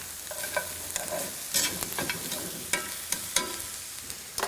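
Meat for osso buco browning in a hot pan, a steady soft sizzle with occasional pops and the scrape of the pieces being stirred and turned, close by and fairly quiet.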